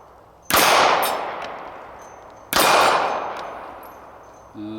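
Two bullet strikes on steel shooting targets, each a sharp metallic clang that rings out and slowly decays, about two seconds apart, with another faint hit starting at the end.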